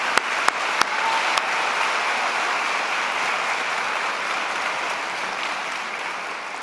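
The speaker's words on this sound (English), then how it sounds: "Let's give them a big round of applause for their music this morning." Sustained applause from a convocation audience in a concert hall honors a university big band after its performance, a steady wash of clapping with a few sharp nearby claps at the start.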